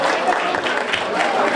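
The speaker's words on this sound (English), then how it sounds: "so how about a round of applause?" Classmates at a 50-year high school class reunion break into a dense burst of crowd applause that fills the short moment at steady volume from start to finish.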